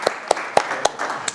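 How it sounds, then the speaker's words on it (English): A small meetup audience gives sparse applause for a sponsor: about five distinct, separated claps in a slow, uneven rhythm, fairly close and moderately loud, with no talk over them. "let's just say applause"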